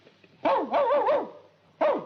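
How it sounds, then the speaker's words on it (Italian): A dog gives a few close, sharp barks, a quick burst of three followed by a single bark after a short pause. "Il cane? La voce del cane."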